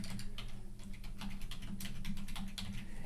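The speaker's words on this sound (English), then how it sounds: "and you can just start typing" Rapid, light keystrokes on a computer keyboard patter continuously, close and fairly quiet, with a low hum underneath.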